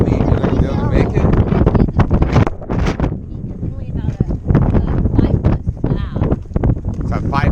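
Strong wind buffets the microphone on a hill, a loud continuous roar with gusting surges, while people talk over it throughout.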